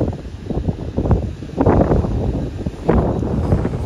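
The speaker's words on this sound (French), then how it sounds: "Moi je suis jamais parti de Marseille avec un vent aussi fort." Strong wind buffets the microphone at the port of Marseille before a cruise ship departure, a continuous loud roaring rush with gusts swelling and falling throughout, no voices.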